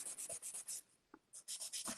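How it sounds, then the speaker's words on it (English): A nail file rasps across the surface of HEMA-free gel nail extensions in quick, quiet back-and-forth strokes, with a short pause partway through. "I'm just filing my surface"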